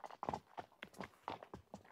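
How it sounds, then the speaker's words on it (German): Horse hooves clip-clopping at a walk on a horse farm in Tenerife, an evenly spaced series of close, moderately loud clops with a faint voice in the background. "ich steige jetzt auf das Pferd."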